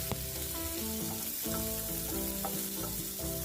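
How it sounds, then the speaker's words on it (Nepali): Eel frying in a couple of spoons of hot oil in a pan gives a loud, constant sizzle with crackling pops and faint tonal scraping, no talking. "अब भने एउटा प्यानमा 2 चम्चा जति तेल तताउँदैछु र यो बाम माछालाई म फ्राई गर्दैछु"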